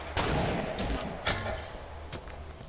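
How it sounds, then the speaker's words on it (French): Grenade blasts in the Fortnite video game, three sharp booming bursts spaced across the moment, each with a short rumbling tail, heard mid-distance over a low background. "Oh, il nous grenade."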